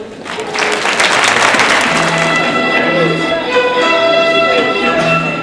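Audience at a school Christmas festival applauding three-year-old pupils, loud dense clapping that swells quickly and holds steady throughout.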